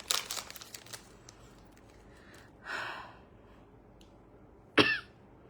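A woman coughs a few times close to the microphone, a quick burst of dry coughs at the start, then a breathy throat sound and one more sharp cough near the end, with quiet room background.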